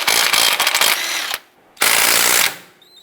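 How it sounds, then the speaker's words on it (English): A ratchet with a 21mm socket works loose a caliper bolt on a 2002-2007 Jeep Liberty, giving two long runs of rapid, loud clicking separated by a short pause. It sounds close, and nobody speaks. "Using a 21mm socket, you want to go ahead and remove this bolt here"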